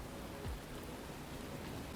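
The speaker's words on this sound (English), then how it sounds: "This is like a light drizzle." Light drizzle from the weather in the Garry's Mod video game, a faint, steady wash of soft rain hiss that stays even and continuous throughout, with no talking.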